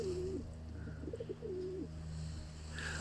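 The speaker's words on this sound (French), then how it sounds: "Ah, mon pigeon qui roucoule." A pigeon coos before sunrise at about seven in the morning, soft low rolling calls repeated a few times, close by, over a steady background hum.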